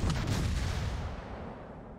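Torpedo explosions in the World of Warships naval game, a loud deep rumbling boom that decays slowly over about two seconds, with no talk over it.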